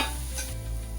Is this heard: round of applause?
no